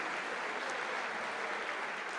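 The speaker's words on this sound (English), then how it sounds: "she deserves a bit of applause for the way she played yesterday" Steady, even applause from the audience at the Under-23 World Squash Championships grand finals, a continuous faint patter of many hands without a break.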